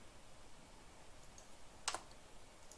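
A single quick mouse click, heard as a tight double tick, lands on the start button of an Instagram account-creator program. The surroundings are otherwise quiet.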